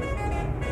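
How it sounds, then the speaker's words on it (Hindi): A long bus in Euro Truck Simulator 2 on a map of India sounds its horn: one brief, loud, steady tone with a rich buzzy edge, lasting under a second. "इसको इतना बड़ा हॉर्न नहीं सुन रहा इतनी लंबी बस का"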